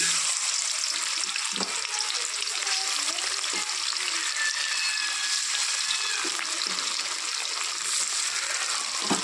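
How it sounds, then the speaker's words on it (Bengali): Pieces of katla fish frying in hot oil give a steady, loud sizzle and crackle that continues without a break, with a few faint clinks and stirring sounds underneath. "তেল গরম হয়ে গেছে, মাছগুলো ছেড়ে দিচ্ছি।"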